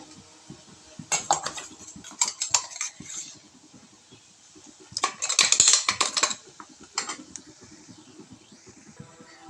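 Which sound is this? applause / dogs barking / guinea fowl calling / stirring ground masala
stirring ground masala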